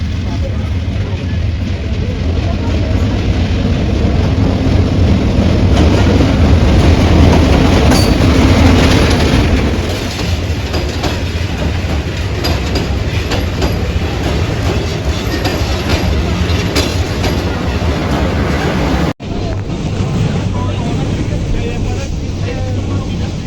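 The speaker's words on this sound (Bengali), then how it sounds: "ওই যে দেখো ট্রেন আসছে, দেখা যাচ্ছে।" A passenger train pulls into a railway station at night, its loud rumble and clickety-clack wheel rhythm filling the platform, with people talking nearby over the noise.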